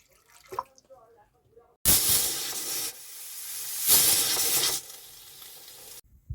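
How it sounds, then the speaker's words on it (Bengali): A pressure cooker holding chickpeas and potatoes releases steam in two loud hissing bursts, each about a second long and separated by a short pause, after brief faint sounds at the start. "দুটো সিটি দিয়ে স্টিমে রেখে দেবো।"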